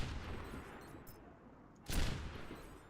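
A Widowmaker sniper rifle fires a single sharp, loud shot in a video game, ringing out alone against a faint background bed after a quieter earlier crack.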